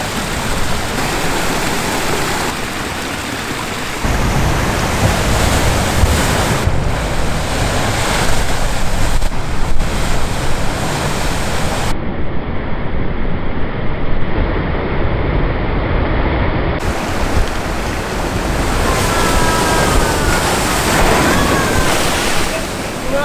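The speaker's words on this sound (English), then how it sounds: "This is huge, those waves coming in." Large surf rolling in and crashing on the beach along the New South Wales Mid-North Coast, a loud continuous roar of breaking waves with strong wind buffeting the microphone throughout.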